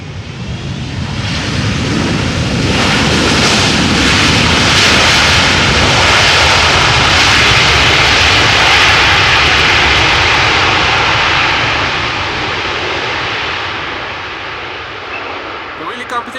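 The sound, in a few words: airliner landing with reverse thrust at Amsterdam Schiphol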